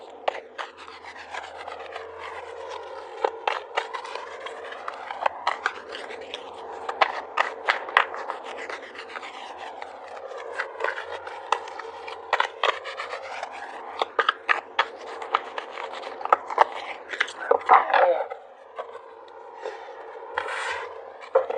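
Tarot cards shuffled by hand, a long run of soft riffling and rubbing papery flicks in quick repeated bursts, close and steady, with no talking.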